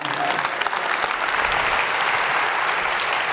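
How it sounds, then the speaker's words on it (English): A live audience claps together in a thick, even wash of applause that holds at a constant level throughout, with no talk over it. "Big round of applause."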